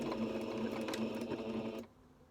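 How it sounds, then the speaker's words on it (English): A domestic sewing machine stitching slowly through dress fabric around a curve, a close, rapid mechanical whirr that runs steadily and then stops abruptly near the end. "So let's gently 2 stitches forward, and I've got a reverse stitch button"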